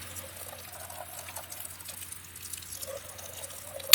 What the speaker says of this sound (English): Just going to rinse them off, get rid of all the soap and leave them to dry